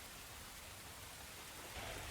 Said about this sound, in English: It's always raining in Noir,